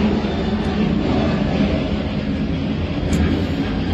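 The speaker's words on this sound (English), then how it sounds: "so of course we're going to have planes going by while I'm on here" Loud, steady roar of an airplane passing overhead near an airport, a continuous broadband rumble filling the whole stretch with no talking.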